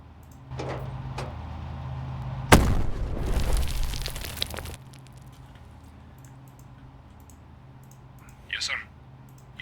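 A tank gun fires in The Troop, an armoured-warfare game, with a sudden loud blast followed by about two seconds of roaring, crackling explosion before it cuts off. Quiet background hum comes before and after, and a small clicking sound follows later.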